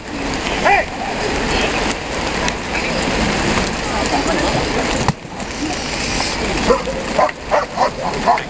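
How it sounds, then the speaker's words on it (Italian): Police dog from a Carabinieri canine unit barking repeatedly during a public demonstration in Vernio, loud and close, amid crowd noise and people talking. "il cane comunque segnala al proprio conduttore la presenza del cattivo, ma non lo morde"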